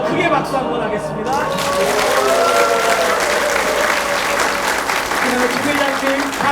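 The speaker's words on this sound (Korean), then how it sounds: "크게 박수 한번 하겠습니다" A church congregation at a dedication and founding service bursts into loud, sustained applause that carries on steadily, with voices of the crowd audible beneath the clapping.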